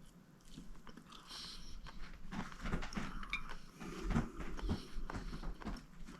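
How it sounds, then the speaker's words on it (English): A cat scratching a scratch post: rapid scratchy scraping and crunching bursts, close by and fairly quiet, in an uneven rhythm of short strokes. "It's a cat on the scratch post."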